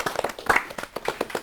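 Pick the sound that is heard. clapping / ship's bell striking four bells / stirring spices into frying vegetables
clapping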